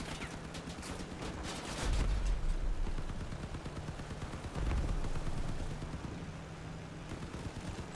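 Dense automatic machine gun fire in the block-building shooter CrossCraft, a loud continuous rattle of shots with heavier thumps of impacts, sustained for the whole stretch without speech.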